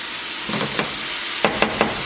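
Minced garlic sautéing in a pan makes a soft, steady sizzle with a few sharp clinks of stirring near the end. No one speaks.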